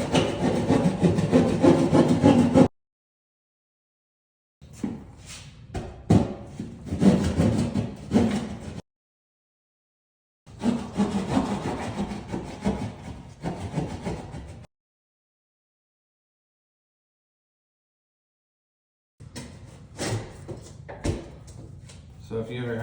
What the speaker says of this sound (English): Now what I'm able to do is I'm just gonna cut out a little bit of drywall, and I am going to do this by hand.